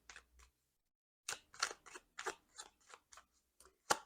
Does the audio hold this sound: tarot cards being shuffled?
yes